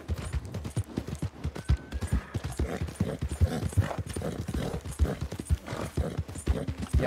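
Horse hooves clop steadily in Red Dead Redemption 2, an even walking rhythm of close hoofbeats that runs throughout over faint ambient game noise.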